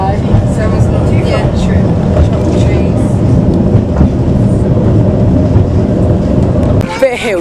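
A Legoland Windsor hill train rumbles and clatters steadily along its track, loud and close, with a squeal of wheels near the end.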